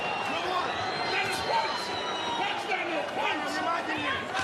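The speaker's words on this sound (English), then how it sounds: "Left hand there from Usyk, got the crowd going here." A boxing arena crowd in a heavyweight fight between Usyk and Dubois roars and cheers steadily after a left hand lands, a dense continuous swell of voices beneath a commentator talking.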